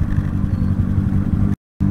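Loud, steady low rumble from the aftermarket muffler of an R32 GT-R idling or cruising close by, with a brief dropout near the end and no talking.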